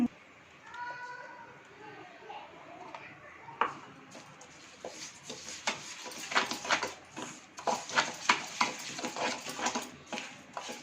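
Mango cake batter paste made with refined oil is stirred in a bowl, giving a run of quick scraping clicks and taps that grow busier and louder, with a voice talking near the start.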